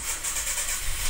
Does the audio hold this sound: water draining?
no